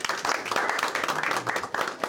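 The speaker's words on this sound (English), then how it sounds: "so clap for him" An audience claps for a visiting British MP at a community gathering, a short burst of steady, close applause mixed with a murmur of voices.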